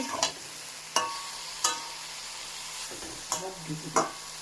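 Vegetables frying in a pan for a vegetarian sabzi, seasoned with salt and stirred slowly: a steady sizzle with a handful of sharp spoon scrapes at irregular intervals, close and clear, no talking.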